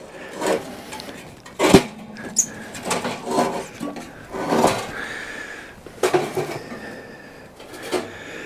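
Metal legs of a WINNERWELL Nomad large tent stove are unfolded, producing a series of close, scattered clanks, clicks and rattles spread irregularly over several seconds.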